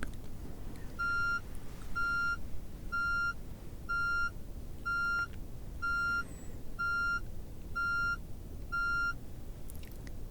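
Nine evenly spaced electronic hearing-test beeps, each a steady high tone lasting about half a second, over a low background hum.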